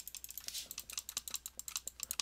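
Rapid, crisp clicks from a computer mouse or keyboard during a quiz game come in a quick, fairly even stream of about a dozen per second, close and faint, with no voices.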